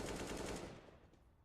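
A Counter-Strike gunshot on the Overpass map, a short burst of fire that quickly decays into reverberant tail, heard alone with no voices over it.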